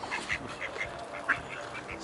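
Paradise ducks give a run of quick, repeated quacks and honks, fairly close, over faint outdoor background noise.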